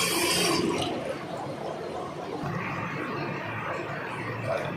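Parts of a Pureit water filter kit are rinsed under running water, a steady broadband gush and splash that is loudest in the first second, then continues evenly and close by.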